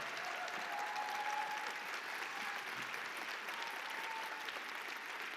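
An audience at a poetry slam final at the Roundhouse claps in a steady, dense round of applause that carries on throughout at moderate volume.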